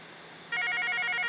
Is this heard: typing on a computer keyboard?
no